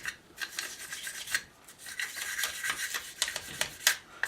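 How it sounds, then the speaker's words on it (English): A brush scrubs back and forth inside an AR-15 upper receiver coated with CLP, making close, rhythmic scratchy rubbing strokes in quick uneven bursts, with no voices. "Going to work our brush through the top here and along the sides where that bolt"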